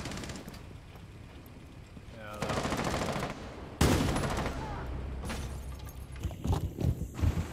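Bursts of gunfire from a window in a ranked team shooter game, a loud sustained volley midway followed by sharper irregular shots, with a player's voice talking over the action.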